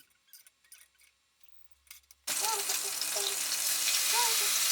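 A second batch of lamb fries in a pot over high, even heat and bursts into loud, steady sizzling partway through. Quiet clicks and shuffles come before the sizzle starts.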